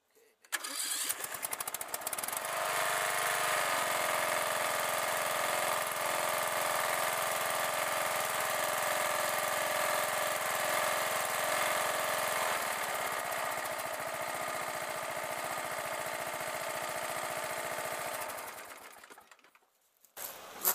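A Craftsman LT 1000 lawn tractor engine with a broken pushrod runs steadily at a loud, even drone for most of the clip, close by, before cutting off near the end.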